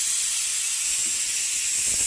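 A tempering sizzles in hot oil in a home kitchen, a steady, bright, close hiss that stays even and unbroken throughout.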